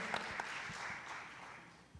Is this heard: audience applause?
yes